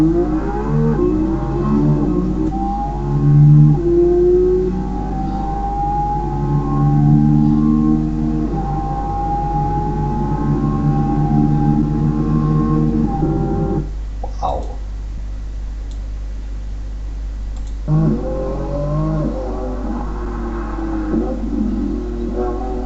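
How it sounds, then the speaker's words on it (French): A Lamborghini Revuelto with a hybrid V12 engine revs loudly, its droning tone climbing and falling through long sweeps. A brief lull breaks it midway before more rising revs, heard close and alone. "Maintenant on va voir si cette Revuelto rugit comme une vraie Lamborghini"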